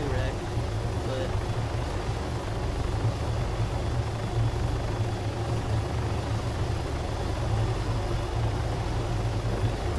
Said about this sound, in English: So I might end up just ditching this helicopter this time.